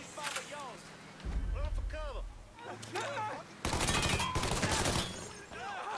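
Gunfire aimed at a sentry in the video game Mafia 3, with bursts of rapid shots rising loud in the second half, mixed with game effects and a voice talking over the action.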